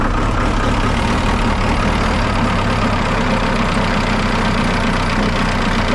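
A sawmill engine, freshly started and showing a small oil leak, idles in a steady, loud, rough chug with a low knocking pulse, running alone without voices.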